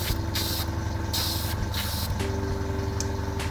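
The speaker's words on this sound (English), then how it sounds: "So you should work from one end so that you're spraying over the top of all your overspray." A spray gun lays paint over earlier overspray while simulating leather seats in an Auster light aircraft, giving repeated hissing bursts of about half a second over a constant low compressor hum, with no voices.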